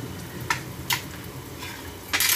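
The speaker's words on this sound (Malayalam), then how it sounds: "എല്ലാം കൂടി നല്ലോണം ഒന്ന് മിക്സ് ചെയ്തെടുക്കണം." Frying masala with turmeric and garam masala is stirred in a pan, with a soft sizzle under a few distinct spoon scrapes against the metal, the last one louder and longer.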